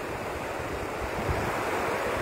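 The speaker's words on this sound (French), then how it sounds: "Chaque vague que vous voyez, regardez les vagues." Ocean surf breaks steadily on the shore, a dense, continuous roar of waves with some wind rumble and no voices.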